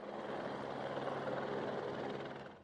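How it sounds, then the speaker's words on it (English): Rescue helicopter flying over flooded neighborhoods around Houston, a steady rumbling rotor and engine drone at moderate distance that holds for a couple of seconds, then fades, with no voices. "Rescuers in helicopters are plucking people from flooded neighborhoods around the clock."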